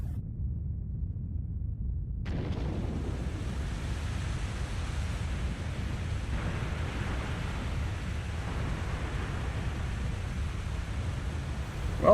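Water flowing in Zelda: Twilight Princess, a broad rushing wash like surf or wind that bursts in after a brief near-silence and then runs steadily, with no talking.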